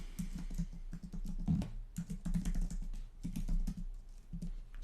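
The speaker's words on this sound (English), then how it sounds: "you can start typing in the name or the email address of all the project managers" Rapid keystrokes on a computer keyboard while entering text into Smartsheet project management software, with steady, close clicking in quick irregular bursts and no voices.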